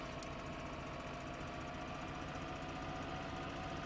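Tractor engine in a farming video game runs at a steady, continuous drone with an even mechanical hum throughout, no talk over it.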